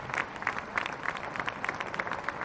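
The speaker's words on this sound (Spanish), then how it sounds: "Vamos a darle un aplauso a Aristóbulo" A crowd at a political gathering with Hugo Chávez at Cuartel San Carlos applauds Aristóbulo, producing dense, steady clapping that fills the whole moment without any speech over it.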